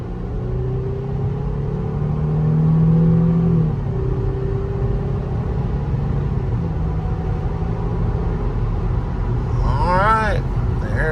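A 2003 Audi A6 Quattro engine pulls steadily at about half throttle from the cabin, a continuous low drone that swells and eases, with a voice heard over the engine near the end.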